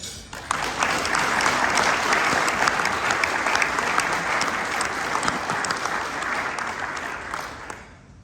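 Audience applause welcoming speaker John Baird at a leadership talk, a steady, dense wash of clapping from a large crowd. It holds loud and even for about eight seconds, then fades out at the end.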